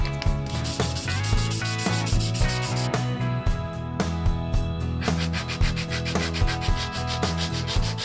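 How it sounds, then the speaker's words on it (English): Coarse sandpaper rubs back and forth against a wooden knife scale for a soap cutter, a close, steady rasping scrape in repeated strokes with slight pauses between them. "Then I mark where the recess should go and sand that part of the scale"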